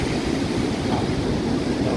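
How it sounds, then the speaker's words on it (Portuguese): Pacific Ocean surf at Viña del Mar, Chile, a steady broadband wash of waves rolling in close by, continuous and fairly loud with wind across the microphone and no clear breaks. "Esse aqui é o Pacífico"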